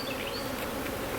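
Honeybees buzzing steadily and up close during a beehive inspection, a dense continuous drone with no pauses.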